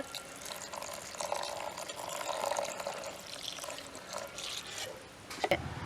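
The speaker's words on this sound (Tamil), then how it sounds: "அதால் நான் 5 கப் தண்ணி விடுறேன்" Water pours into a container for wood apple juice in a village kitchen, a sustained splashing trickle that swells and fades, ending with a few brighter clinks near the close.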